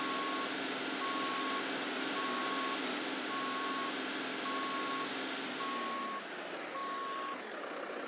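A truck backing up at the scene of a road accident attended by Liège firefighters gives regular, steady reversing beeps, about ten evenly spaced pulses over a constant engine rumble and broadband noise.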